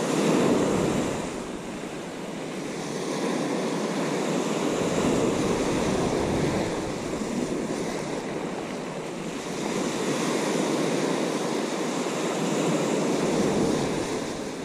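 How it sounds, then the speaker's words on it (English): Ocean waves break continuously on a beach during a bass fishing outing, a loud steady surf wash with gentle swells, mixed with wind buffeting the microphone. "That's getting me to where I want to be, where the waves are breaking out."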